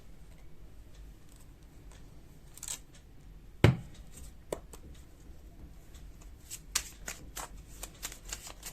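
Tarot cards are shuffled for a pick-a-card reading, quiet papery riffles and taps coming in scattered bursts, with one sharper snap-like slap in the middle, close and soft.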